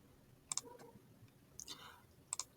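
Faint computer mouse clicks come in small pairs, three quick double-clicks spaced across a quiet room background.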